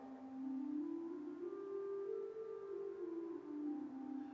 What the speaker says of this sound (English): We also have a flute, or a stop diapason.